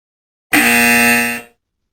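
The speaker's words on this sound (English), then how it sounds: "and a buzzer if we don't." A loud, harsh electronic buzzer sound effect blares once for about a second, a flat sustained tone that cuts off abruptly, with silence before and after.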